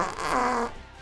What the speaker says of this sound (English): I have the clip of you unleashing Fart 3.